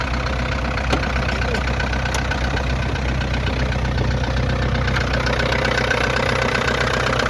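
A simple diesel engine in a car idles continuously up close, a steady low rumble with a slight knocking rattle and no pauses.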